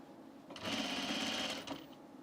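A sewing machine stitches a men's button-up shirt in a single short, faint, muffled burst of about a second.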